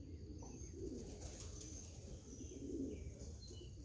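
Pigeons coo softly outdoors in the morning while a group of young birds is let out to fly, with low murmuring calls over faint steady background noise.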